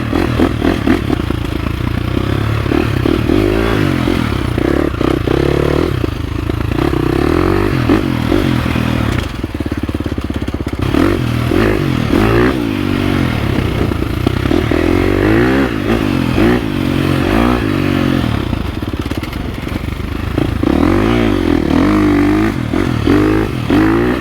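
A 2023 KTM 350 SX-F dirt bike picking its way over rocks in low gear, engine revving and bogging in uneven bursts with clatter and scraping, close and loud throughout.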